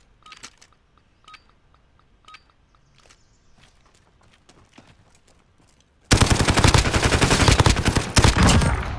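Light clicks and soft footsteps sound in a near-silent shooter video game before an automatic weapon suddenly opens up in a loud, rapid, continuous burst of gunfire.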